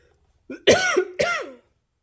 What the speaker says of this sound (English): it seems like I'm going to end up coughing